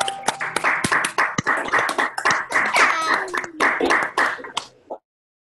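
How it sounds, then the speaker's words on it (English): Online seminar participants clap for a math talk, a patchy mix of separate claps and taps from a few people on open microphones, ending abruptly in silence. "Big clap."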